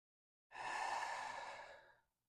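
A single deep, breathy exhale, close and fairly loud, lasting about a second and a half and fading out, taken during a guided yoga and visualization practice.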